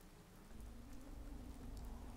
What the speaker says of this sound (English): let the rain cover our approach